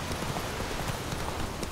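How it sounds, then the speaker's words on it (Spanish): Horse hooves galloping in The Witcher 3 video game, a fast, steady clip-clop rhythm under constant broadband noise, moderately loud and without talk. "este caballo debería de llamarse Rayo"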